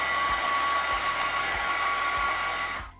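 A heat tool embossing glitter embossing powder on a stamped card gives a steady, close blowing whir with a faint tonal whine, running for about three seconds before stopping, with no voices.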